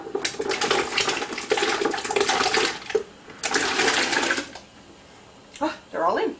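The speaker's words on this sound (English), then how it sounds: "we are going to take and slowly put our potatoes inside so that they can boil" Potatoes lowered slowly into a large pot of boiling water: bursts of loud rushing, bubbling and splashing come and go in waves, with a person talking in between and over it.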